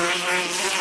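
An insect-like electronic buzzer sounds on a quiz show, a short, continuous droning buzz like a fly, moderately loud and heard alone.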